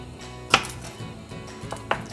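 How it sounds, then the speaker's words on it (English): A garlic clove, skin left on, is whacked to crush it, giving one sharp knock on a board, then a quieter second knock moments later, close up. "I just give it a little whack just to kind of, you know, crush it a little bit"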